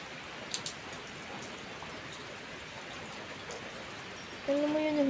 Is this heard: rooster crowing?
no